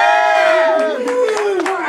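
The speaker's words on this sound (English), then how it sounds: "I need to hear some cheering." A loud crowd cheers and shouts at an Occupy-style political rally, with sustained voices and rising yells filling the whole stretch.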